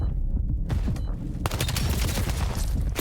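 Rapid gunfire during a Call of Duty esports Overload match between M8s and Toronto KOI, with dense overlapping automatic bursts, muffled at first and then loud and continuous.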